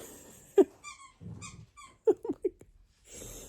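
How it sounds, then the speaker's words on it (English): Dogs playing indoors at night, making a few sharp squeaky yelps, grunts and snuffling breaths in short bursts at close range. "The dogs are playing."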